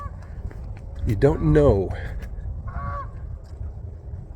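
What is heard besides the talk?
goose honking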